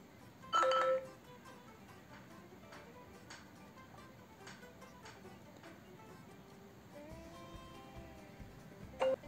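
A Redmi Note 4 running an Android 12 Pixel Experience custom ROM plays a short, bright chime burst at the start, then faint quiet tones, and a second brief chime near the end.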